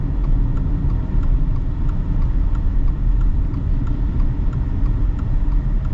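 A 2025 Subaru Outback Touring XT with its turbocharged engine accelerates, heard from inside as a steady low rumble of engine and road noise, continuous and moderately loud with no talk.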